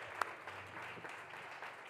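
A steady wash of applause from a church congregation continues throughout, even and moderately loud, with one sharper clap standing out early.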